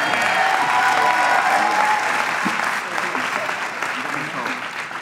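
A graduation audience bursts into loud, sustained applause and cheering, a thick wash of clapping that stays strong and gradually thins slightly over five seconds, with voices mixed into the crowd.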